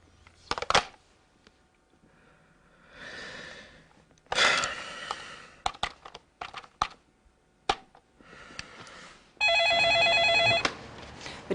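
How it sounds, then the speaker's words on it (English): A telephone rings for a call in a steady electronic burst near the end, preceded by scattered keypad-like clicks, rustles and a breath, with no talking. "Now, he's going to make a phone call."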